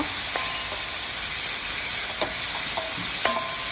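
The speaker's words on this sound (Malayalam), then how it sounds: "പിന്നെ മുറിച്ച് വെച്ചിരിക്കുന്ന സവാള സവാള ചേർത്ത് നല്ലപോലെ വാട്ടിയെടുക്കണം" Onions sautéing in a pan give a steady, fairly loud hiss and sizzle throughout, with a few brief scrapes of stirring near the end.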